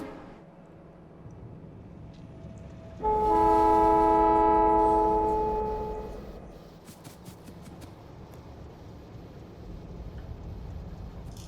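A train in the Factorio video game rolls through with a loud sustained multi-tone horn blast lasting about three seconds, then a rumbling passage that fades over a low background hum.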